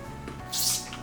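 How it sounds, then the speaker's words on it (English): A single short burst of bleach cleaner from a spray bottle misted onto a kitchen counter, a close hiss lasting about half a second after a faint click of the trigger. "go ahead and spray your counter down"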